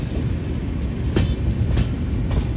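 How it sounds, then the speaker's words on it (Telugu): The Venkatadri Express with new LHB coaches rumbles past steadily, with low rolling noise and a few faint rhythmic clacks from the wheels on the rails. "కొత్త కోచ్లతో నెగనగా ఆడిపోతుంది వెంకటాద్రి ఎక్స్ప్రెస్ ట్రైన్ అయితే"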